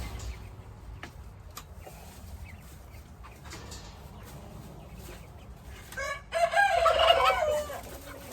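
Chickens cluck softly and sporadically in a coop at night, with faint rustling in the background, before a rooster lets out a loud, close crow near the end.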